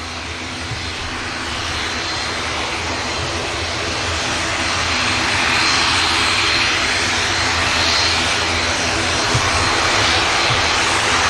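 An ATR turboprop airliner taking off at Manchester Airport, a loud sustained engine drone that swells gradually as it powers along, with no talk.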